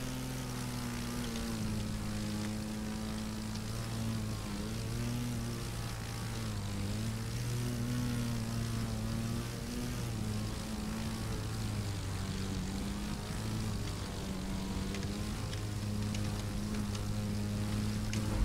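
A propeller plane in The Crew 2 drones steadily and loudly throughout while rolling and looping, its engine tone wavering slightly as it climbs and dives.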